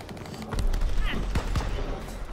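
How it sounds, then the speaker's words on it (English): Gunfire from online multiplayer Call of Duty WWII, several sharp shots scattered through a busy game soundscape, with players talking over it. "I'm getting shot"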